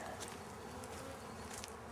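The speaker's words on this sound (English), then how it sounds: "I'll now put her in a queen cage" Honey bees buzz steadily and closely around a queen cage, forming a dense, continuous droning hum with no speech.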